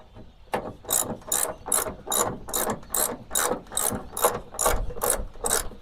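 Ratchet wrench tightening the upper door hinge bolts on a 1976 Chevrolet C20 pickup, a steady run of about a dozen evenly spaced metallic clicking strokes, close and fairly loud with no talk.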